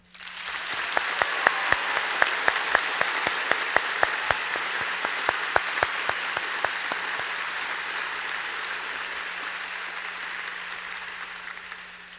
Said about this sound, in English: please join me in a massive round of applause